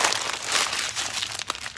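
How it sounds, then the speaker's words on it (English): A sheet of paper is crumpled in a garage workshop during tail light housing restoration, giving a short, close crinkling crunch that lasts under two seconds. "crumple this up"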